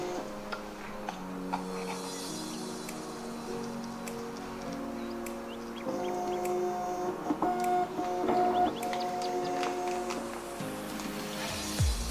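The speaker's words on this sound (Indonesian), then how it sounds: "sampai hasil print out keluar" Uryxxon 500 urine analyzer printing its results on a small built-in printer, a steady mechanical whir with rhythmic stepped tones and ticking that rises in pitch midway, close and clear with no talking.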